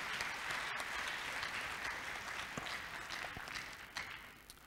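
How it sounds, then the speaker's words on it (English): Steady, full welcoming applause fills the hall at the opening ceremony of a global conference in Addis Ababa, a dense wash of clapping from a large audience that holds throughout with no voices. "give them a big welcoming applause to our international delegates"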